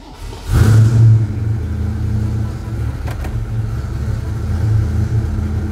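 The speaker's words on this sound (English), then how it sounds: "Now we'll actually start the car and check everything else." A Ford Mustang Fox Body engine turns over and fires, surging loudly at start and then settling into a steady, rumbling idle close by.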